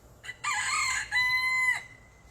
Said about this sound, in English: Little rooster.